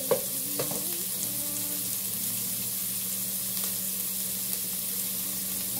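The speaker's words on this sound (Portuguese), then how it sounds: "E aqui está a cebola. Vamos esperar a cebola se dourar." Onion fries in a pan until golden with a soft, constant sizzle, preceded by a few light clinks at the start and then settling into a steady hiss.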